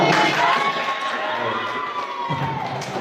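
Crowd of students at a school event cheering and shouting loudly together, a continuous dense roar with a bright whistle-like tone running through it, sustained for about three seconds.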